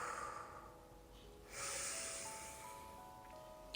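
A slow, steady exhale during a yoga breathing practice, a soft broad breath sound that swells and then holds for a couple of seconds, close and alone with faint tones behind.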